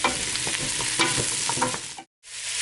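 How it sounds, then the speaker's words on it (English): Carrots stirred into ginger and garlic in a hot pan for carrot and coconut soup, a steady close scraping and sizzling with several louder spoon strokes, then a brief silence before the sizzle resumes. "we're going to stir these in with the ginger and garlic and just mix them in all together"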